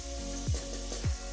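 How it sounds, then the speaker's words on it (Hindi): Sliced onions and peeled garlic cloves fry in oil in a pot for mutton trotters, giving a steady close sizzle with a couple of brief low thumps from stirring. "तीन मिनट तक हम फ्राई करेंगे प्याज"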